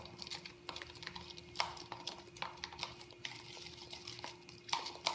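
Cookie icing being stirred in a bowl, soft quiet scraping and tapping strokes in an uneven rhythm, close up with a faint background hum and no talk.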